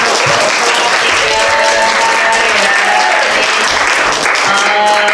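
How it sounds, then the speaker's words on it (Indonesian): A seated audience applauds steadily after a student project presentation on descriptive statistics and probability, the loud, dense clapping continuing for several seconds on its own. "Tepuk tangan dong."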